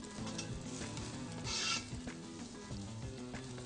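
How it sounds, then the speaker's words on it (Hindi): Ginger frying in a pan after garlic has browned, giving a steady loud sizzle with stirring scrapes throughout and a brief louder hiss burst midway. "आप अदरक को पैन में डाल दें और अदरक को अच्छी तरह 2 सेकंड के लिए आप फ्राई करें या तलें।"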